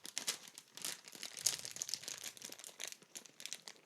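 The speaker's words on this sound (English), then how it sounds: "Let's open this bag of chips." A bag of chips is opened, with close, crisp crinkling and rustling of the plastic packaging in irregular bursts and no talking.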